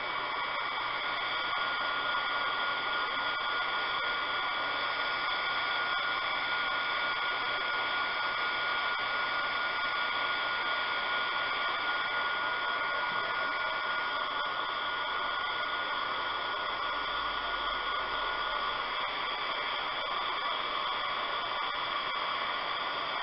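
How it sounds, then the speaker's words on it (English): Heat gun drying an alcohol ink painting, a steady loud blowing hiss and whir held constant for the whole stretch, no talking. "I'm going to take my heat gun."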